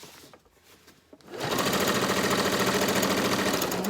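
A home sewing machine sits quiet briefly, then starts stitching fabric with a steady, fast, even mechanical chatter that stays loud and close to the end.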